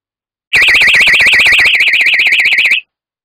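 A loud Energizer wireless shed alarm warbles rapidly and steadily for about two seconds, then cuts off, leaving silence.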